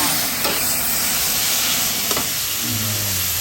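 Crispy pork pad thai with wide noodles stir fried in a hot wok, a loud continuous sizzle and hiss with occasional spatula scrapes, steady throughout with no voices.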